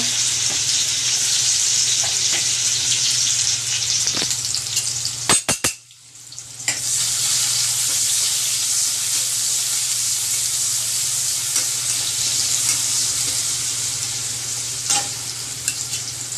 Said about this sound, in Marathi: मी तेल टाकलेलं आहे आणि तर मी लसूण टाकून घेते